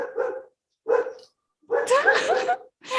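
Dogs bark repeatedly nearby at a home during an online call. There are three or four separate yappy barks with short gaps, the last ones louder and longer.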